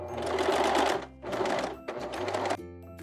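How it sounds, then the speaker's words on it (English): A sewing machine stitches the side seams of a high-waisted bikini bottom at 3/8 inch in three quick bursts with short pauses between them, close and fairly quiet. "we're ready to sew up the seams at 3/8 of an inch"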